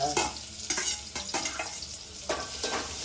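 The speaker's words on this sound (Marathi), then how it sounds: "तेल गरम झाल्यावर असा आवाज बघा टाकतो सा सा सा सा" Ingredients hit hot oil in a pan while cooking a traditional Konkan dish, giving a loud sizzle with stirring scrapes and bursts of crackle, close and alone with no talk.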